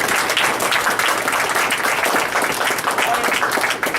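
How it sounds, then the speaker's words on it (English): Council meeting attendees at a November 2012 swearing-in of new council members give a lively round of applause, close and loud, sustained clapping from a roomful of people lasting the whole stretch. "let's give ourselves a round of applause"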